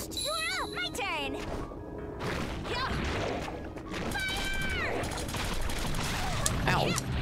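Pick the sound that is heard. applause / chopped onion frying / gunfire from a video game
gunfire from a video game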